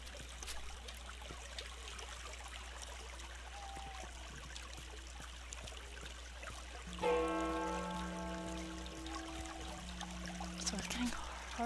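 Water trickles and streams steadily in the video game Nightblind, a soft continuous wash that is joined partway through by a sustained tonal drone.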